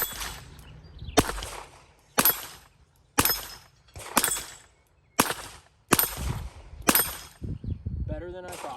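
A revolver firing .22 LR Federal Auto Match rounds, eight sharp, fairly close reports spaced about a second apart, with quiet gaps between them and a faint voice near the end.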